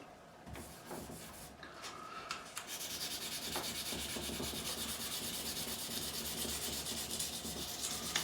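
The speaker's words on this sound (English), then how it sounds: "So I'm going to sand this all smooth now." Sandpaper rubs steadily along the wooden neck of a Warwick Streamer LX bass after a truss rod replacement, a close, continuous scratchy rasp that starts with a few hesitant strokes and then settles into constant sanding.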